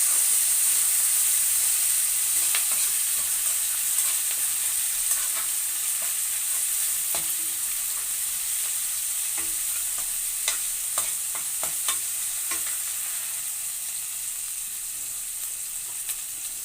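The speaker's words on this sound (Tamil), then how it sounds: "வெங்காயம் தக்காளி போட்டு நல்லா வதக்கணும்." Onion and tomato sauté in a hot pan for a curry, giving a steady, close sizzling hiss broken by occasional scrapes and taps of a stirring spoon, with no talking.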